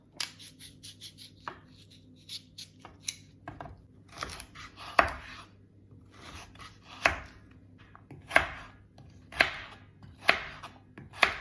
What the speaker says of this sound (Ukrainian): Кубиками розміром десь так біля 1 см нарізаємо морку.